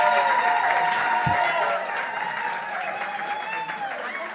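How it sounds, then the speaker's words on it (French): An audience at a talk on inclusive teaching applauds and cheers to welcome a speaker, a steady wash of many clapping hands with scattered whoops, held at a fairly even level for over four seconds. "sous un tonnerre d'applaudissements, pour accueillir Suzy"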